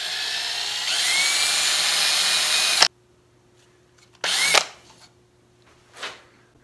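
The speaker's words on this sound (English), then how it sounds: "I got all my locator pins and rivets, I guess you would call them, drilled" A hand drill bores locator-pin holes in the metal of a hand-made shoulder plane, a close, loud whirring whine for about three seconds, then two short bursts of drilling after a pause.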